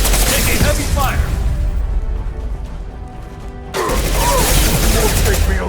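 Gunfire in the Mass Effect video game during a fight against gangs on Omega, a dense loud barrage of shots and impacts that drops back for a couple of seconds before surging again.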